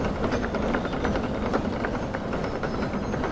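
Locomotive in the game Derail Valley being pushed along the track by a shunter, a steady rolling rumble with a faint rhythmic clatter and hiss, continuous and even.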